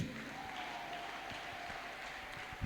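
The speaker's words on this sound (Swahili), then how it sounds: "Ongeza makofi kwa Yesu." A church congregation applauds for Jesus during a service, a faint, steady wash of many hands clapping together at a distance, unbroken for a few seconds.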